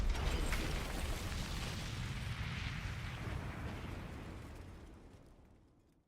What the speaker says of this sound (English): The explosion ending, part 3.